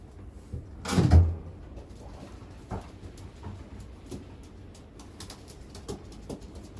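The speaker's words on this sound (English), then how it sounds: "whenever I open the door to the Youngbirds" A wooden door to a young pigeon loft swings open with a brief scraping creak near the start, followed by soft knocks and faint bird rustling in a quiet loft.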